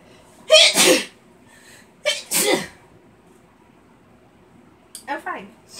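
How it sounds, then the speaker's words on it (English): Several loud close human sneezes come one after another with pauses between them, the last one smaller, in a quiet room. "I want to sneeze."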